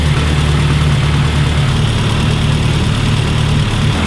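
A classic Mini engine idles at or below 1000 RPM while its ignition timing is set, giving a loud, steady, even drone with a low hum that runs unbroken throughout.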